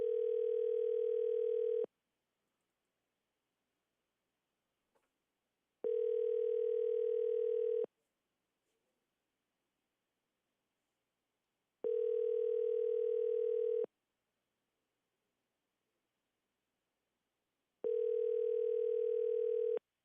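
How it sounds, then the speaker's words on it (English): A telephone line rings out repeatedly with four evenly spaced two-second tones separated by silence, calling a football coach who never answers. "we are attempting get a hold of our head football coach, Craig East."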